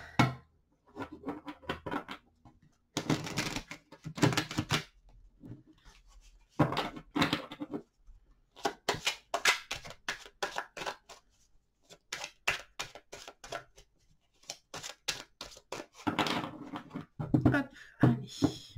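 Tarot cards are shuffled and drawn in a quiet indoor space, with repeated soft papery riffles and flicks coming in short bursts separated by pauses, close and fairly faint.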